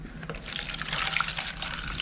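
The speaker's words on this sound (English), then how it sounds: "We're gonna pour it in our bowls." About a cup of water is poured into a bowl, a close, continuous splashing trickle with bubbly gurgles lasting a couple of seconds, no talking over it.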